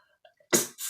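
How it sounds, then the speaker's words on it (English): A single abrupt sneeze bursts out close by after a moment of near silence, followed by a short breathy exhale. "I've got another sneeze."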